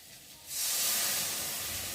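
Water splashes into a hot pan of frying bitter gourd masala, setting off a sudden loud, sustained hiss of steam and sizzling that follows a quiet moment.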